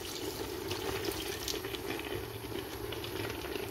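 Red wine poured into a pot of browned meat for Neapolitan ragù, giving a steady close sizzling, bubbling hiss with fine patter that holds evenly throughout.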